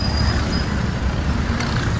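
Heavy road traffic seen from a run in hot weather: a dense, steady roar of cars, buses and trucks close by, with a brief brake hiss near the end.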